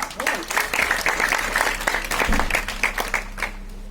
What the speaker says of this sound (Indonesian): Oke, tepuk tangan tuh semua